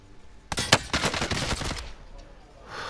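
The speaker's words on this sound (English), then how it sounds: "I am under fire." A close, loud burst of automatic gunfire in Call of Duty Warzone on Rebirth Island, lasting about a second and a half, then fading into quieter background game noise.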